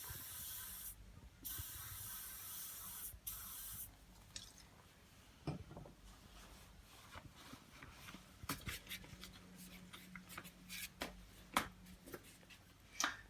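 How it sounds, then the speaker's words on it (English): WD-40 is sprayed into the front swivel wheel mount of a Britax B-Agile stroller where it meets the fork: a few close aerosol hisses, then quieter clicks and handling noises. "spray in here where the swivel wheel attaches to the fork, and again allow the WD-40 to work itself down inside"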